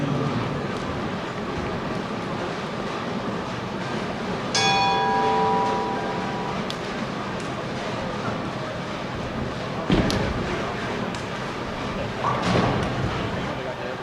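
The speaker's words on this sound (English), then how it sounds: "Bowlers, at the sound of the bell, you may begin your event." A bell rings out to signal the start of a bowling event at the 2015 USBC Open Championships, a short burst of bright tones rising over steady bowling-centre ambience, with a few sharper clacks later.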